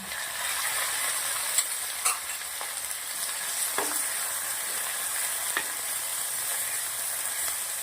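Hing, ginger, garlic and green chillies spit and sizzle in hot oil with a steady, dense crackle, broken by a few sharp clinks of a spoon against the pan.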